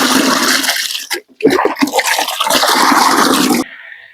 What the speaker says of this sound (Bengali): এরপর পানিটাকে ভালোভাবে মিক্সার করে নেবো